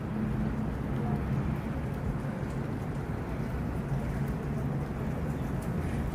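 Steady rain falls on a university campus in a French-speaking area, a dense continuous hiss with low rumble, loud and unbroken, with no talk over it.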